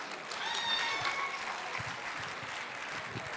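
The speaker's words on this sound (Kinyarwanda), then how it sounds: "ibi bintu mwabikomeye amashyi" A comedy show audience breaks into steady applause, dense clapping filling the room at moderate level with some crowd murmur beneath it.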